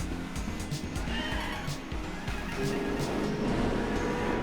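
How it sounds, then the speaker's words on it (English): Tires squeal as a big-block Buick Custom on poor tires does a burnout in Gran Turismo 4, a continuous rough screech over engine roar at steady loudness. "Gonna be doing a burnout everywhere with this thing."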